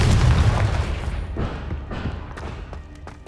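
In Hogwarts Legacy, a Confringo fire spell hits with a loud, close, deep boom that rumbles and fades, followed by faint crackling debris.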